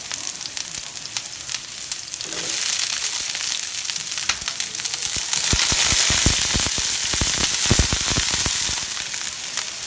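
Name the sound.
onions and mushrooms sizzling in oil on a hibachi griddle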